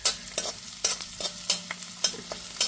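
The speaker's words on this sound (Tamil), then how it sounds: "இந்த மாதிரி நம்ம கடாயில் வதக்கி சாப்பிட்றது ரொம்ப நல்லது" Chayote and onions are sautéed in a kadai, with a spatula scraping in regular strokes about twice a second over a soft, continuous sizzle.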